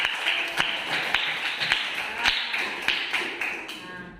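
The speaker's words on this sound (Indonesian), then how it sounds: "Tepuk tangan untuk kelompok." A class of students claps for a group in a classroom, a steady patter of hand claps with sharper individual slaps standing out, moderately close and fading toward the end.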